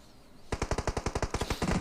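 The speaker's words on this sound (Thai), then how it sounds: "สโตนเมื่อกี้น่าจะโดนยิงมาจาก r q หรือเปล่าเหมือนกระสุนมาจากซ้ายนะครับ" A burst of automatic gunfire erupts in PUBG Mobile during a competitive scrim match, with about fifteen rapid, evenly spaced shots at close range that follow a quiet start.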